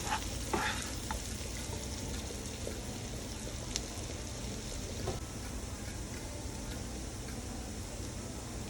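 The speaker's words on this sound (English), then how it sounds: "You don't want this to burn, because the worst thing you want is burn onion and burn garlic in your food." Onion and garlic fry in a hot pan, a steady dense sizzle with occasional soft stirring scrapes and pops running throughout at moderate level.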